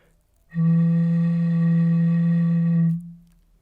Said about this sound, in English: a glass bottle, and this one sounds like this.